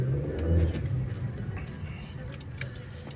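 2017 Honda Civic FC with a 1.5 turbo engine accelerating hard, a low engine drone and road rumble heard from inside the cabin, with someone talking over it.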